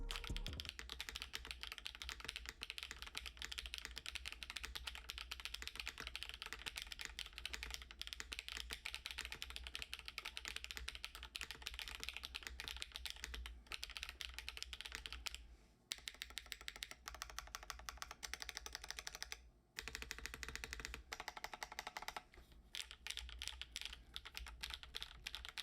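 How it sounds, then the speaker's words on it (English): Steady, rapid keystrokes on a Rakka TKL keyboard with a wired hot-swap PCB, HMX Gravel switches, no flex cuts and no foam. The clacking runs continuously, with brief pauses near the middle. "Here's the sound test of the wired hot swap PCB. No flex cuts, nor foam,"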